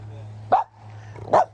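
A big dog barks twice, short and gruff, close by, with a low steady hum underneath.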